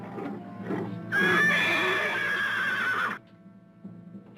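A horse on a ranch lets out a loud, drawn-out whinny lasting about two seconds, rising and wavering before cutting off, with quieter voices murmuring before and after.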